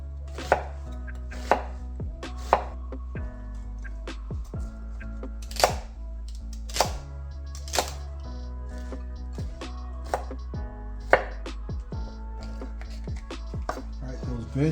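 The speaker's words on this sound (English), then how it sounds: "You can chop these up as large or as small as you want" Knife chopping vegetables on a cutting board for a chuck roast pot roast, a steady series of sharp close thunks spaced about a second apart over a low background hum.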